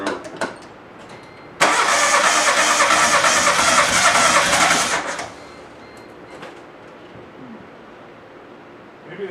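A Geo car engine cranks loudly for about three seconds under a dense, steady roar, then cuts off, leaving quiet shop noise with a few faint knocks and voices nearby.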